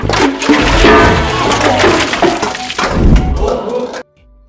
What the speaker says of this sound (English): all those students had put a bucket of water on the door to prank him